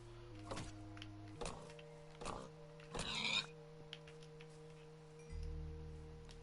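A pig creature in a video game makes odd, faint squeaks and grunts, a few short separate bursts over a quiet electronic hum and background game tones.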